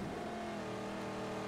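A racing car engine in the Mad Max video game drones loud and steady in a constant high-revving tone, with no speech over it.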